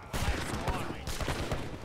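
Volleys of organ gun fire in an Age of Empires III battle, dense rattling bursts of gunfire repeating over about two seconds amid general battle noise, with a voice talking over it.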